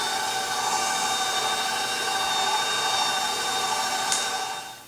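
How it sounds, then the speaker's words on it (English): An electric mixer turned up to a higher speed while making carrot cake gives a steady, even motor whine that holds for nearly five seconds, then tapers off at the end. "I'll turn the mixer up a little bit."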